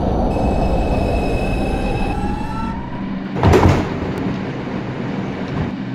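A Bronx-bound New York subway 2 train running on the 5 line rolls loudly with dense rumble, a sustained wheel squeal that glides and fades, and a sharp clanking burst midway.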